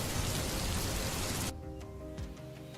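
Light rain falling steadily as a dense, even hiss for the first half, then cutting to a quieter, sparser patter with faint background tones.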